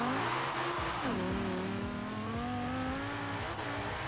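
Engine revving hard and accelerating in Forza Horizon 4, its pitch climbing through a gear change with a brief dip before rising again, loud and continuous with no talk.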